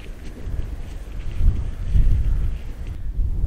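Wind gusting across an exposed mountain summit in Norway, a steady low rumble that swells and buffets the microphone in waves, loudest around the middle, with no one speaking.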